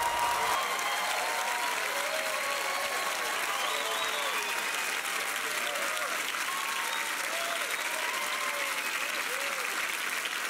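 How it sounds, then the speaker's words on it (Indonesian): Sustained applause from a talent show audition audience fills the room, steady and loud throughout, with a few scattered cheers mixed into the clapping. "Ya, kita kasih tepuk tangan buat Putri."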